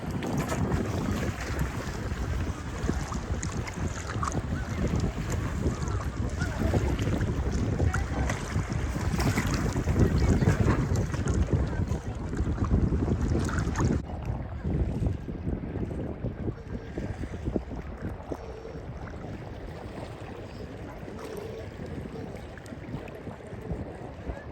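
Wind rushes over open water during wingfoiling, a loud, steady roar with gusting buffeting against the microphone that eases somewhat partway through, with faint water wash beneath and no talking.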